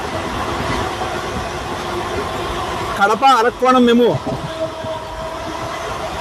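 A special passenger train on the Tirupati–Charlapalli route, a steady rolling rumble along the rails with a sharp horn-like blast and rattling in the middle, while someone talks over it.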